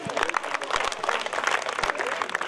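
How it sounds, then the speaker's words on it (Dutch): An amateur football tournament crowd in The Hague gives a burst of applause, dense clapping at moderate distance throughout. "Mag ik daar een heel groot applaus voor"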